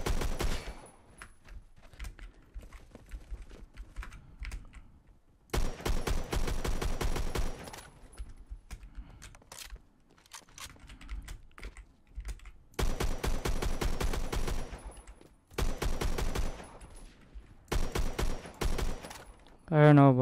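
FAL rifle firing in Roblox Phantom Forces: several loud bursts of rapid automatic gunfire, each lasting a couple of seconds, separated by quieter stretches with faint keyboard clicking.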